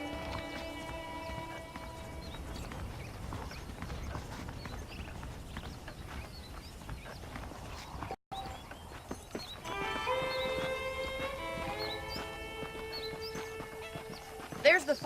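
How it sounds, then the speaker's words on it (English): Horse hooves clip-clopping at a steady walk in Red Dead Redemption, with a whinny and game music underneath while someone talks over the riding. "The horses are saddled up over here."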